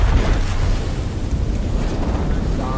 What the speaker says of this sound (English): that was actually the perfect nade